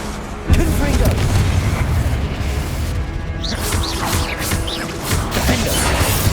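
Repeated Confringo blasting-spell explosions from the Hogwarts Legacy video game, loud booming crashes and impacts layered over continuous combat noise, with a voice calling out spells throughout.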